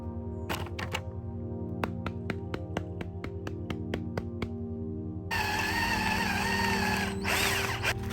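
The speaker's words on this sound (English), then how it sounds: "I drilled a hole through the body, the yoga block base, and through the top of the box" A power drill works on a foam body and yoga block base: a string of evenly spaced clicks over a low steady hum, then a loud, continuous grinding whir as the bit bores through.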